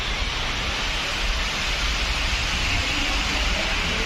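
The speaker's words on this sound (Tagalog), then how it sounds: "lumakas na naman ang ulan" Heavy rain pours down in a loud, dense, unbroken hiss that holds steady throughout, with no voices.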